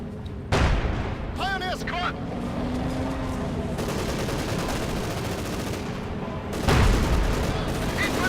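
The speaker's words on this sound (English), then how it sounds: "Infantry under fire from the Panzer IV's machine guns, most vividly raking into them." Panzer IV machine guns rake infantry in a Company of Heroes 2 match, with bursts of rapid gunfire and heavy booms mixed with game effects and a rising whine, while a voice talks over part of it.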